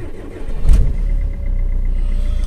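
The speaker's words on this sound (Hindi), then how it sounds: "अगर इंजन के अंदर कैबिन साउंड की बात कर ली जाए तो" Low steady engine hum heard inside the cabin of a 2012 Maruti Suzuki Swift VDI diesel car, a quiet idle rumble with a brief swell near the start and no talking.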